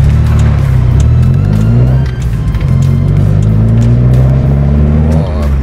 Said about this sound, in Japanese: エンジンエンジン元気だな